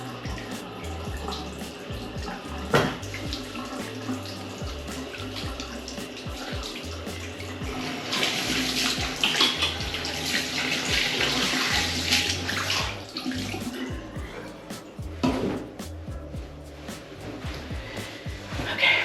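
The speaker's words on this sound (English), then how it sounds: "So let me wash my hands." Tap water running steadily into a sink while hands are washed, a continuous close splashing flow with a brief louder surge in the middle.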